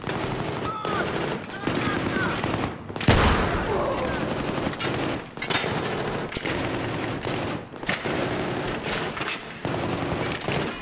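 Enemy soldiers in Battlefield 3 fire rifles in dense, sustained bursts, with one sharp close shot standing out amid near-continuous crackling gunfire, and talk mixed in over the din.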